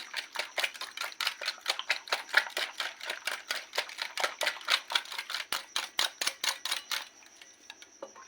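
Spices being whisked into beaten eggs in a bowl for egg paratha, a fast, regular run of light clicking strokes, close and fairly quiet, stopping near the end.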